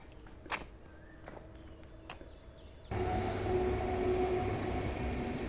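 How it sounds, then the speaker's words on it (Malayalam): Quiet surroundings with a few sharp clicks and steps near a backwater homestay at Eramallur give way to the sudden, steady, loud rumble and rattle of a train passing close by, continuing to the end. "ട്രെയിൻ അപ്പുറത്തോടി പാസ് ചെയ്യുന്നുണ്ട്."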